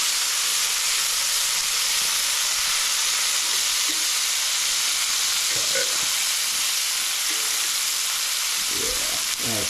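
Venison pieces sear in a hot pan with a steady, close, loud sizzle and frying hiss, a few brief clicks and stirring sounds breaking through, with no talking.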